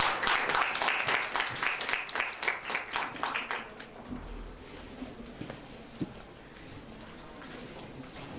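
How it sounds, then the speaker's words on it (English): Audience applause at a young writers' conference in Pakistan, a dense burst of clapping that rings out for about four seconds before dying away to scattered claps and room murmur. "please give a huge round of applause for that"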